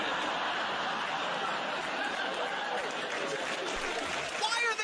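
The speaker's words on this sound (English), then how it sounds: "Why are they clapping?" Dense applause and scattered cheering from a crowd fill the whole stretch at a steady, moderate level.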